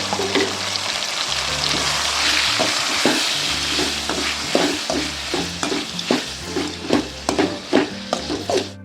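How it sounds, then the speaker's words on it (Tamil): Tomatoes and onions sautéing for a South Indian sundal kuzhambu, loud continuous sizzle with a run of rhythmic spoon knocks against the pan growing sharper toward the end, no talking. "தக்காளியெல்லாம் நல்லா வதங்கிடுச்சு."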